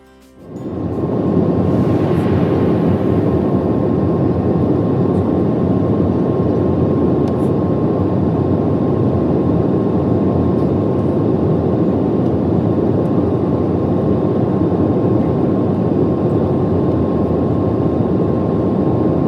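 Airliner on a Bengaluru–Kolkata route coming in to land, heard from inside the cabin as a loud, steady broadband roar of engines and airflow that holds evenly throughout.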